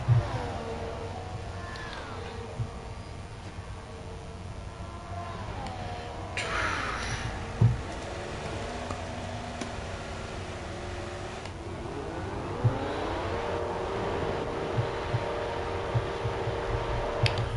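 A race car's engine in a 2014 racing video game revs steadily, its pitch rising and falling in long sweeps, with a few sharp clicks over the continuous drone.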